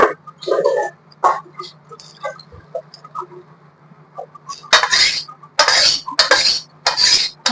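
Sour mango dal poured from a pot into a steel bowl, with scattered clinks and scrapes early on, then several loud, splashy pouring bursts close by.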